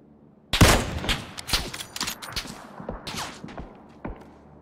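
Gunfire in PUBG on the Erangel map, a sudden loud shot followed by a scattered burst of sharp reports and thuds, some close and some more distant, with quiet moments between them.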